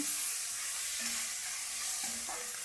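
Spice mix with turmeric and jaggery roasting in a pan gives a soft, faint sizzle with light stirring scrapes during a short stretch.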